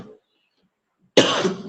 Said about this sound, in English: I'm suffering from cold, so that is why I'm coughing